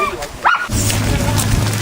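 A long-bodied dog gives one short yip or bark partway through, close by, in an outdoor setting with steady low background noise and voices nearby.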